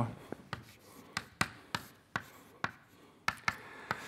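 Marker or chalk strokes on a lecture board as a formula is written, a steady run of about a dozen crisp taps and scrapes at an uneven rhythm, close and clear in a quiet room.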